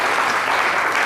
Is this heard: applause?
yes